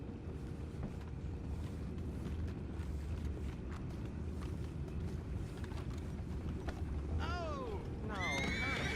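Horses in Red Dead Redemption 2 whinny with high, wavering neighs near the end, over a steady low rumble of background noise.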